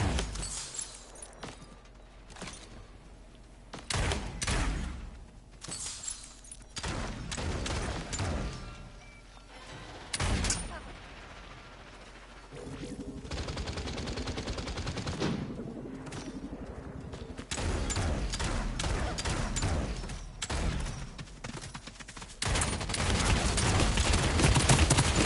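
Gunfire in the battle royale video game Realm Royale, with repeated bursts of shots and volleys that come and go across the clip, loud and near, alone without talk.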